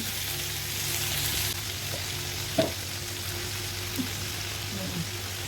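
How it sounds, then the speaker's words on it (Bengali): Chopped tomatoes, garlic and green chillies fry in a pan with a steady soft sizzle, a few light clinks of a utensil scattered through, moderately close. "ভালো করে ভাজা ভাজা করে নেব"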